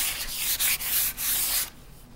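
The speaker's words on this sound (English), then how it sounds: "And we just run the sandpaper up and down." Sandpaper rubs up and down across a surface in steady, close, loud strokes with brief pauses between passes, heard alone without talk.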